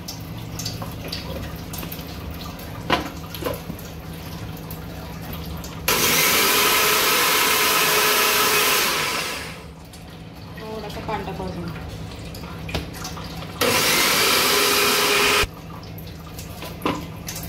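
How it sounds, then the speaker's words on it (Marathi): An electric mixer-grinder loudly whirs through soaked dal with added water for dosa batter, in two long bursts separated by a pause, with someone talking between them and kitchen clatter around. "आता आपल्याला वाटायचं आहे हे बघा, डाळ वाटायची आहे"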